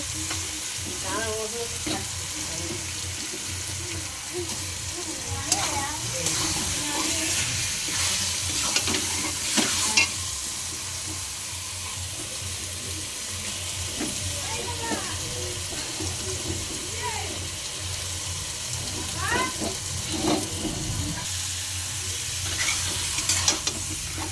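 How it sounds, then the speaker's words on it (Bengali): Chicken sizzles in spiced masala in a large wok, with a steady close frying hiss, repeated stirring and scraping, and occasional running-water sounds. A voice speaks now and then. "চিকেনটা দিয়ে দিচ্ছি, মশলাটা কষা হয়ে গেছে"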